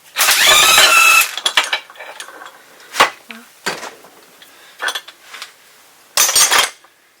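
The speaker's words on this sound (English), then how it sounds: "I've got the long puller set up now, so I'm going to go ahead and pull this bearing off" A long bearing puller works a bearing off a Suzuki Samurai transmission shaft, giving a loud, close burst of metallic grinding followed by scattered sharp clanks, taps and scrapes with short pauses between them.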